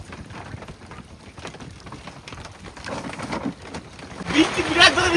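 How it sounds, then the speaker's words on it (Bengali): Heavy rain pours down on a river boat, a steady wash of noise that swells louder toward the end; a voice is faintly present underneath. "বৃষ্টি বিরাট জোরে বৃষ্টি শুরু হয়েছে।"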